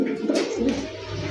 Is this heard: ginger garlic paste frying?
no